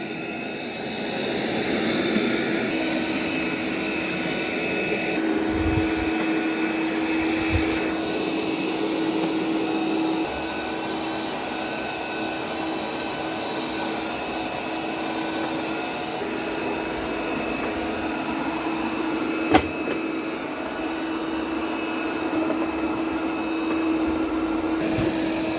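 A budget robot vacuum cleaner runs steadily, with a continuous whirring motor and brush drone close by, low rumbles as it moves and one sharp knock partway through.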